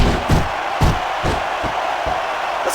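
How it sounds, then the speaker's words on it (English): Arena crowd from the wrestling video game WWE SmackDown! vs. Raw 2006, roaring and chanting loudly in rhythmic surges about every half second, close and dense with no talk over it. "Listen to the crowd, JR."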